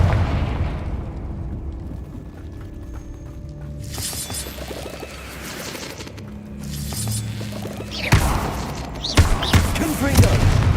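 Confringo blasting spells explode in a fantasy spell-casting game: a few sharp, loud bursts toward the end follow a quieter stretch with layered game sounds.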